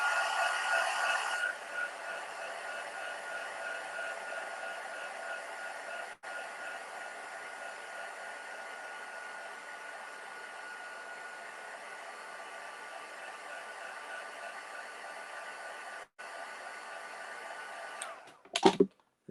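A hair dryer gives a quick blast of air over blotted ink on a handmade craft flower, a steady loud whir running unbroken for most of the stretch before clicking off near the end.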